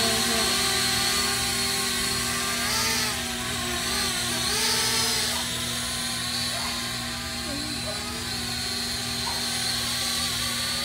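A Holy Stone HS160 Shadow drone takes off and flies, with a continuous high-pitched rotor whine and buzz that shifts in pitch as it climbs and hovers, steady and fairly close.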